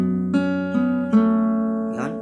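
Acoustic guitar slowly plucking a chord pattern, a few single notes picked at a steady pace and left to ring out together, close and clear with no talking.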